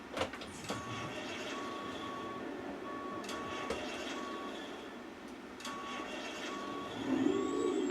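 A steady, repeating reversing beep sounds over the low idle of a large Freightliner truck backing in a 54-foot trailer, with occasional clanks and a brief hiss of air near the end.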